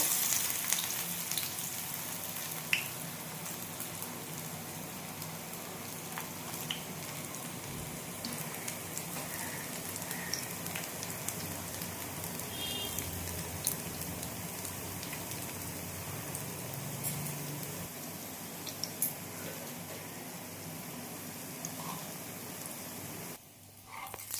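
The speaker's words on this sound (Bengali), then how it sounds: "এর মধ্যে হালকা স্টিমে ভেজে নিতে হবে আস্তে আস্তে।" Pumpkin leaf fritters fry gently in a pan of hot oil, giving a steady, rain-like crackle and hiss that continues evenly throughout with scattered small pops.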